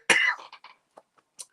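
A single loud, close cough bursts out, followed by a few short, faint throat-clearing rasps in otherwise quiet surroundings.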